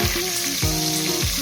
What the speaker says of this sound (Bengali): এখন পেঁয়াজও দিলাইমু